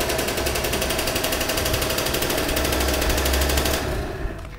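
Small 50cc scooter engine being kick-started, giving a loud rapid buzzing, chattering putter that runs steadily for a few seconds before cutting off abruptly near the end.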